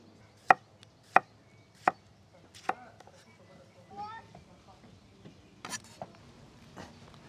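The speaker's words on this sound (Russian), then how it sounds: "Теперь нарезаем помидоры" A knife chops through tomatoes into rings on a board outdoors, a few sharp, separate cuts with short gaps between them, close by and fairly quiet, followed by softer rustling and handling.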